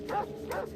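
Wolves in the video game Fallout 2 give two short, hoarse barking calls in quick succession, close and moderately loud over a constant background hum.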